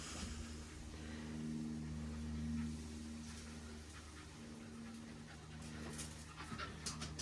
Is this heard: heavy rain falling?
no